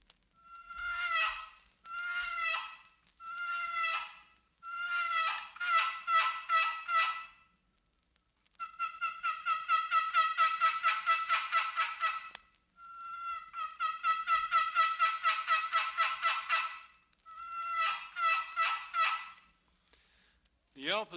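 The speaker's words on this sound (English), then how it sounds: "The yelp can be slow and deliberate, or it can be short and more excited." Wild turkey yelps played on a box call come in several runs of short, raspy, evenly paced notes, some slow and deliberate and others quicker and more excited. They are clear and close, with short pauses between the series.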